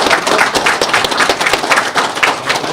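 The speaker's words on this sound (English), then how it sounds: "please join me in giving a huge round of applause to Joe" An audience at a Startup Grind Ottawa event gives a speaker a round of applause, dense continuous clapping at steady loudness, close and alone without talk.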